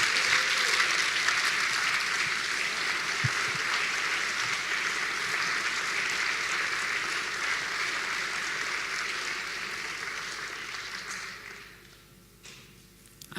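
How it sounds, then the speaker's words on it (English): A conference audience at a closing session gives sustained applause for Rob, a broad even roll of many hands clapping for about eleven seconds before it quickly dies away to near quiet. "may I have just a great thank you applause for Rob for doing all this"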